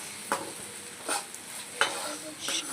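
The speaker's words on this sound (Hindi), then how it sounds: "अब मैं को अच्छे से चटपटे भून रही हूँ।" Okra (bhindi) frying with chili powder and salt in a pan: a soft continuous sizzle with four evenly spaced scraping stirs of a spatula, close by and fairly quiet.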